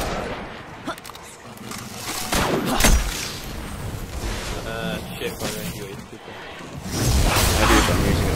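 Scout rifle gunfire in the video game Destiny, scattered sharp shots and bursts mixed with game effects and whooshes, with someone talking over the action.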